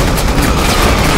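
Loud, continuous gunfire from a zombie's gun in Resident Evil 6, a dense, close burst of shots filling the whole short moment with no pause.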